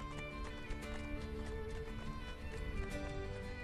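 Rhythmic hoofbeats of a galloping horse in the video game Assassin's Creed Brotherhood, quiet and continuous beneath a steady layer of game music.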